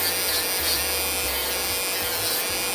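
A cheap electric nail machine files off gel nail with a constant high-pitched grinding whine, steady and close throughout with no talk.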